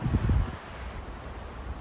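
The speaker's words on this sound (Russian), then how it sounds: "Потому что очень сильный ветер поднимается." Strong wind outdoors at a dugout shelter during the first frosts buffets the microphone with low rumbling gusts, heaviest at the start, then a steady roaring rush.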